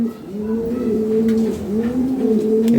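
Lahori Sirazi pigeons coo close by in a steady run of soft, overlapping throaty calls, with no talking.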